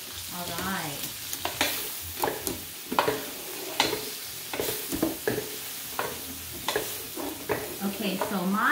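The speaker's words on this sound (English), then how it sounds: "Okay, so my stir fry is coming along." Pancit canton noodles and vegetables with pork bouillon broth and canola oil stir-frying in a pan, a continuous sizzle broken by frequent sharp scrapes and clatters of tossing.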